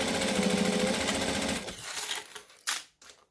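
A domestic sewing machine stitches and back-stitches a fabric bag with a fast, steady mechanical whir for about a second and a half, then slows and stops, followed by a few brief handling clicks.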